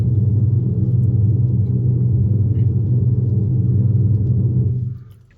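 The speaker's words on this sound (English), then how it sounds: "So you have the startup sound." A simulated engine startup from a GLYDSPHERE EV active exhaust sound system in an electric car plays as a loud, steady low rumble, holding evenly for several seconds before fading out at the end.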